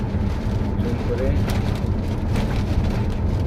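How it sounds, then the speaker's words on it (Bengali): Heavy rain and strong wind in a storm on the Padma Bridge make a loud, steady roar of downpour and gusts, with occasional sharper hits. "প্রচুর বাতাস বাইরে এবং প্রচুর বৃষ্টি হচ্ছে।"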